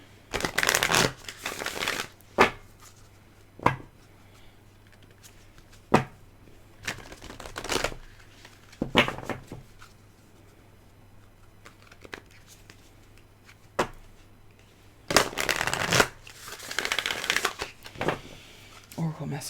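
Oracle cards are shuffled in repeated riffling bursts, some long and some short, with quieter gaps between them. A voice is also heard.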